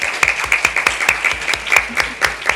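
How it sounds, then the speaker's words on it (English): Audience applause for the panelists at the close of a panel discussion, a dense run of many hands clapping with sharp individual claps standing out, steady and moderately loud throughout. "Let's give them a final round of applause."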